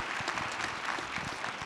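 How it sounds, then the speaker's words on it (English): Sustained audience applause for speakers at the Low Carb Denver 2023 health and nutrition conference, a soft, even patter of many hands clapping at some distance for the whole stretch. "let's start with a round of applause for all our speakers again"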